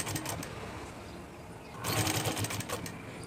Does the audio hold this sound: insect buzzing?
no